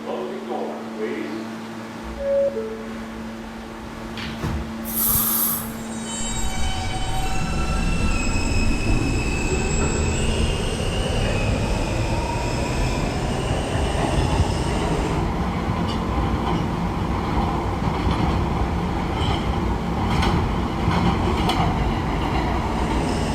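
An R160A subway train on the K line bound for Union Turnpike runs steadily and loudly, its motors rising in pitch as it accelerates, with wheel squeal and rail clatter throughout.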